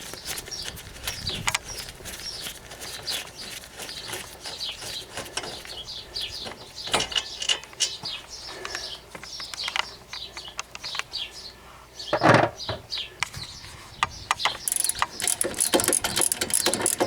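A wrench works loose the 85 ft-lb caliper bracket bolts on a 2009 Chevrolet HHR during a DIY brake pad and rotor job, giving a steady stream of ratcheting clicks and metallic knocks with a few sharper clanks midway.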